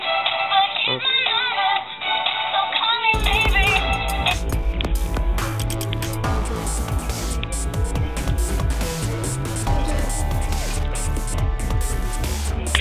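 Loud, dense music with steady drums and bass plays from the built-in speakers of a Polaroid Diamond 10.1 tablet. A brief, thinner, lower-fidelity passage comes first, then the full sound carries on continuously without talk.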